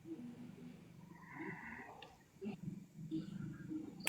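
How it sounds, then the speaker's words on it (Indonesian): A man snores softly during an online livestream discussion, with slow rasping breaths recurring through the stretch and faint background noise around them. "Siapa ngorok?"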